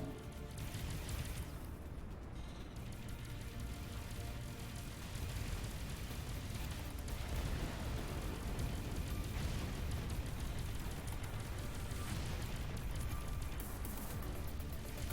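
Torpedo explosions in the space game Avorion, a continuous roar of blasts and crashing debris rolling on for around fifteen seconds, dense and booming, with no voices over it.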